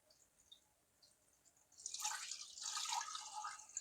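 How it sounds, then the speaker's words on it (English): Brine of water and salt poured over lemons packed in a jar, a soft, close liquid splash and trickle that starts after near-silence and runs on for a couple of seconds, fairly quiet. "we're going to pour this brine"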